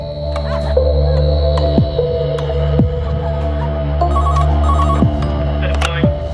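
Electronic telephone ringing in an indoor setting, repeating in regular pulses over a steady low hum with occasional swooping tones, loud and alone without speech.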